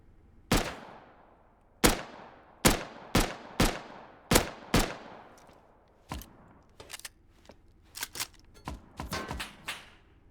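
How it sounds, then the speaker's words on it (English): Gunfire in the survival game Rust rings out as a string of sharp, separate shots at an uneven rhythm, with several louder reports early on and quicker, lighter pops toward the end. "That guy down there shooting at him."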